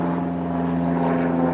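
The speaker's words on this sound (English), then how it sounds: "I'll let the airplane pass" A propeller airplane drones overhead above a spring garden, a loud, steady engine hum with a strong low tonal buzz that holds throughout, no talk.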